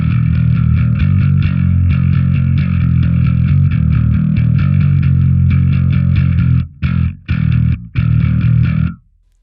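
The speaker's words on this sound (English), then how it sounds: "With the bridge pickup, with the distortion on," Bass guitar played through its bridge pickup with distortion and compressor on, a loud, gritty, sustained riff with fast repeated notes, then choppy stops and short bursts near the end before falling silent.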